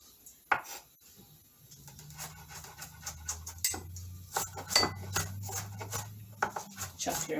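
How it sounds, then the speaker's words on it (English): Onions are chopped finely on a board, making a run of quick, close knife taps of uneven rhythm, with a voice murmuring faintly underneath. "Chop your onions fine"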